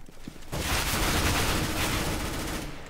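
AK rifle fire in Counter-Strike: Global Offensive: after a brief quieter lead-in, a dense, loud burst of rapid shots runs continuously for over two seconds and fades slightly at the end, with no talk over it.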